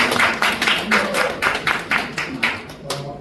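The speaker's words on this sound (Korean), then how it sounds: "박수 부탁드립니다" Attendees at a press conference where film and arts figures endorse Kim Moon-soo clap loudly in unison, an even rhythmic beat of claps with voices and a low tonal hum underneath.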